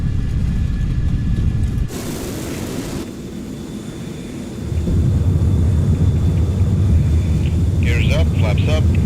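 F-14 Tomcat jet taking off from Cape Town in Microsoft Flight Simulator, a loud sustained engine roar that surges and deepens midway and keeps rumbling steadily, with faint chirpy sounds near the end.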